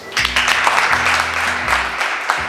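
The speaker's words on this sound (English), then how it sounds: "If I'm right about that, clap your hands." A crowd claps their hands at a Somali community event, moderate applause that runs steadily for a couple of seconds over a low, tonal hum in the room.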